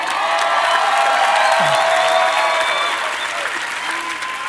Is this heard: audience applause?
yes